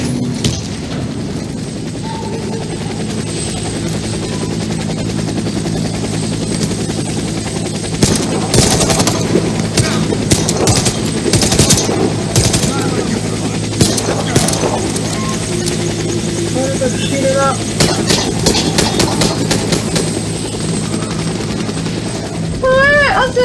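A helicopter in the Warface PC shooter drones continuously at a steady level beneath rapid gunfire bursts and clattering mechanical effects.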